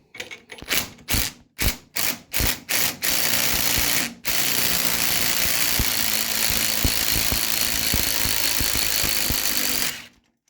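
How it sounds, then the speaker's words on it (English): A mini impact driver loosens the motor nut on a DeWalt 12-inch compound slide miter saw, starting with several short hammering bursts, then running in one long continuous rattling stretch of about six seconds, loud and close with no talk. "I'm going to use a mini impact because it's probably on there tighter than I think it is"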